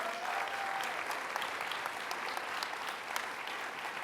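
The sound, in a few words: audience applause for the college faculty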